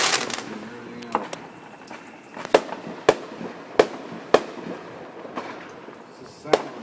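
Fourth of July fireworks explode in a series of about six sharp, loud bangs at irregular intervals. A voice is heard briefly at the start.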